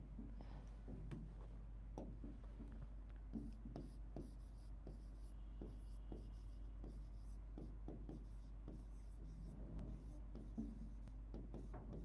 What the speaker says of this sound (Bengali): এখানে আমি লিখলাম